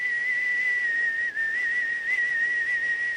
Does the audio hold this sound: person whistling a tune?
yes